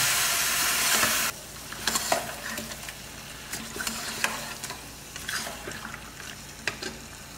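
Chili and coriander powder sizzle in a pan, with a loud hiss of steam as water is poured in, followed by repeated scraping strokes of a spoon stirring the masala for a village chicken semi-gravy.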